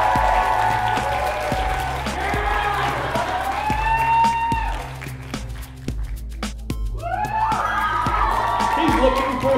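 Audience at a live Masquerade show at Unplugged Expo 2014 cheering, with shouted calls and whoops rising over scattered clapping, loud and lively throughout, dipping briefly before swelling again.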